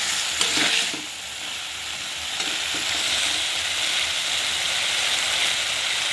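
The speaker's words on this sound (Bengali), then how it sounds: "ভালো করে কষিয়ে নেব যতক্ষণ না কাঁচা গন্ধটা চলে যাচ্ছে।" Spice masala sizzling and frying while stirred in a pan for a Bengali fish and potato curry, a steady, loud, close crackle with faint scraping throughout.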